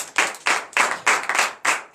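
A church congregation at a night deliverance service claps in a rhythmic, steady beat, about three claps per second, close and lively with no talking.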